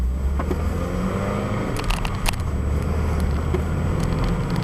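A 2001 Toyota MR2 Spyder driven along small roads gives off a low, steady engine and road rumble, heard from inside the car, with a few faint clicks.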